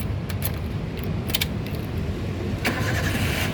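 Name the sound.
Toyota Avanza 1.3 car engine starting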